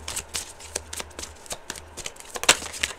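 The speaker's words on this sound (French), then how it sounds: "j'attends que la carte se retourne" A tarot card is handled and turned over, giving crisp, close flicks and papery snaps in quick irregular succession, with a sharper card slap near the end in an otherwise quiet room.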